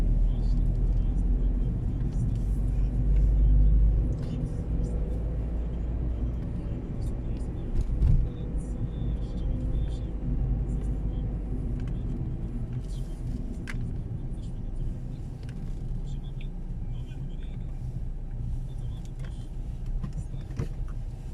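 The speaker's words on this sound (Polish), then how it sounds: "Duży ruch pieszy, samochodowy, rowerowy." Busy Friday-evening traffic along the riverside boulevards in Wrocław: cars pass in a continuous low rumble with a few louder swells, scattered clicks and faint activity, with people heard only faintly.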